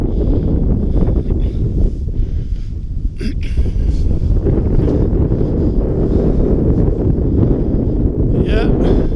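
Strong wind buffets the microphone just below a fell summit on a winter evening, a loud, constant rumbling roar with gusty rustling that carries on throughout, and a person talks over it.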